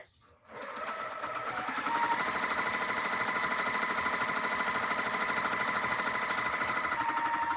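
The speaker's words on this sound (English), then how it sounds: "I'm going to sew 1/4 inch away from the other side of the diagonal line" A sewing machine stitching quilt block squares, a rapid, even mechanical chatter that starts after a brief pause and then runs steadily, close and fairly loud, without talk.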